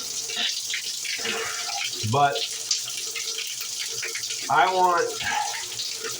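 Cold water runs from a tap in a steady hiss with two louder gushes or splashes, close by, while someone talks over it.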